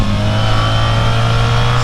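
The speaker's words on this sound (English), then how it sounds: "the sound coming out of this bike is absolutely crazy" A 2024 BMW R 1300 GS motorcycle engine revs loud and close, a steady sustained drone with no pauses and no voices over it.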